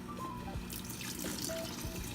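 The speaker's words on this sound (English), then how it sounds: "so I'm adding the rest of my water" Water is poured into a pot of cooked flour, a steady splashing trickle with faint clinks, close and alone without speech.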